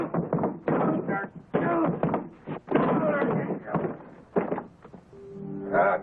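Fists pound on a locked door in repeated heavy thuds, arriving in bursts, with someone shouting angrily close by.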